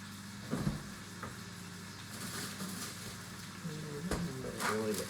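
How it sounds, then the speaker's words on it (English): A beef roast sizzles steadily as it sears in a hot pot, a constant crackling hiss with occasional louder pops and soft clanks nearby. "we're waiting on the big roast to sear"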